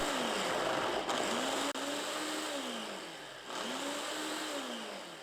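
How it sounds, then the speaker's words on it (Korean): Blender coarsely grinding pear, green and red chili peppers, onion, 30 g garlic, ginger syrup and 300 ml water, a steady loud motor whir with pitch dipping and rising as the contents churn, briefly interrupted twice. "청양고추, 홍고추, 양파, 마늘 30g, 생강청 반큰술, 물 300ml 넣고 약간 거칠게 갈아주세요."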